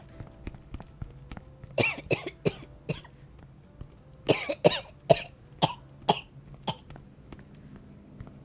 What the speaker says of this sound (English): I'm gonna start coughing blood.